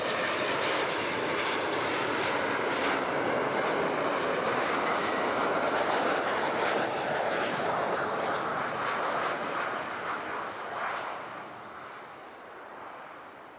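An airliner lands on runway 14 at Zurich airport. A broad, loud engine roar fills the air, steady for several seconds, then fades as the aircraft moves away, with no voices.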